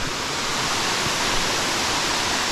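Crabtree Falls on the Blue Ridge Parkway pours with a stream below, a steady, loud, full rush of water that fills the whole clip with no break.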